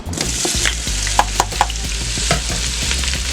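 Andouille sausage hits melted butter in a pressure cooker with a continuous loud sizzle, close up, with a few sharp clicks and scrapes of a utensil against the pot and no talking.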